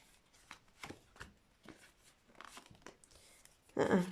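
Quick riffling and flicking of playing cards, several short crisp bursts building to a louder full shuffle at the end, close by with no talking.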